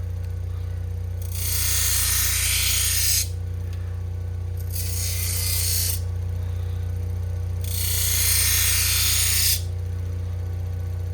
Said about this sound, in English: this is the 600 Scotch-Brite wheel. So we're gonna push that burr to the front.